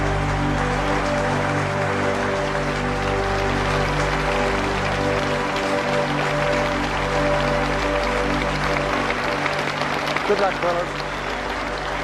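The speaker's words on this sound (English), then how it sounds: "And the applause from the huge crowd as the Australian opening pair, Woodfull and Ponsford, make their way down to the gate." A huge cricket crowd applauds as the Australian opening batsmen walk out, a dense, steady roar of clapping that fills the whole stretch, with someone speaking briefly over it.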